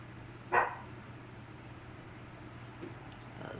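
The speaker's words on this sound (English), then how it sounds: "You can't bark at everything that you hear and see" A small dog named Pom Pom gives a single short bark, near and fairly loud, against a quiet indoor background with a steady low hum.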